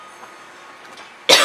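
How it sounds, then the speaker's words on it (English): A single sharp cough near the end, loud and close, following a stretch of quiet background. "Excuse me for coughing."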